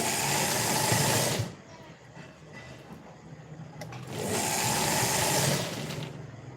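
Sewing machine stitching lace onto a princess-cut blouse, running in two loud bursts separated by a quieter pause, with the motor's steady whir alone.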